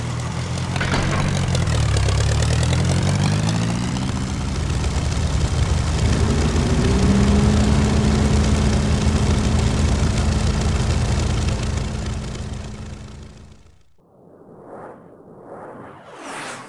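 Soviet bomber aircraft engines from a Command & Conquer Red Alert cutscene: a loud, steady, close droning roar whose pitch sweeps and shifts for about fourteen seconds, then cuts abruptly to fainter, brief whooshing passes.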